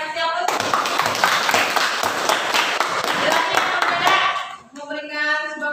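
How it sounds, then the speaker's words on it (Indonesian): Students in a classroom clapping together, a dense, loud round of applause lasting about four seconds before cutting off, with a voice speaking briefly before the clapping starts and again after it ends. "Oke, kasih aplaus."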